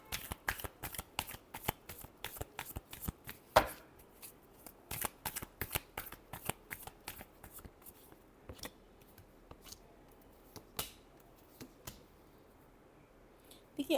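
Tarot cards being shuffled up close, with a long run of crisp riffling flicks and clicks that come quickly at first and then space out.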